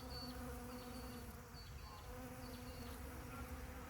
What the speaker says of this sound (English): you can just hear all those European bees